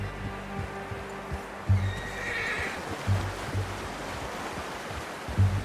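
A horse in Red Dead Redemption 2 gives a soft whinny amid a steady outdoor ambience of water and low rumble, with faint hoof thuds recurring at a distance.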